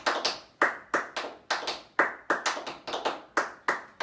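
Crisp tap-dance riffles alternate with sharp hand claps in an intermediate tap lesson, a quick, even rhythm of bright, close strikes heard alone with no talk.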